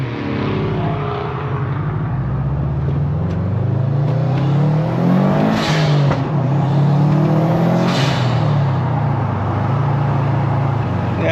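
A big-turbo Nissan Skyline GTR engine drones loud and close, revving up and down in rising and falling sweeps as it accelerates, with no voices over it.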